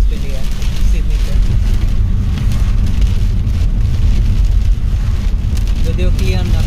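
Steady rain and road noise inside a car driving on wet Sydney roads: a continuous broad hiss over a low rumble of tires and engine, with no voices.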